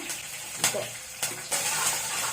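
Chana dal, cumin, onions, curry leaves and green chilies fry in a pan for curry leaf rice, with a continuous sizzle broken by a few stirring scrapes, close by.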